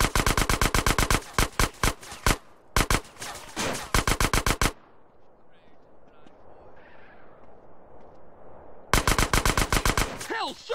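Bursts of rapid automatic gunfire crack out loudly and close in a GTA San Andreas mission, separated by a quieter stretch of rumbling ambience and faint shouting before the rattling volleys start again.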